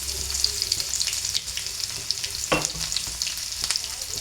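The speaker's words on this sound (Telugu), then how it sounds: "ఇప్పుడు ఆయిల్ వేడెక్కిపోయింది. తెల్లుల్లి వేసుకుంటున్నాను." Garlic hits hot oil in a pan while preparing a drumstick-leaf (mulagaku) fry, giving a steady, close crackling sizzle with a brief clatter from stirring partway through.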